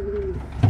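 Pigeons being paired give a short, soft coo at close range, followed by a brief low rustle.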